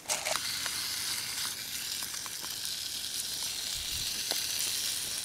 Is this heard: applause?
no